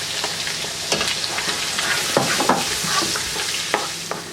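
Ground onion fries on a high flame for butter chicken biryani, sizzling loudly up close while a utensil stirs and scrapes it in an uneven rhythm.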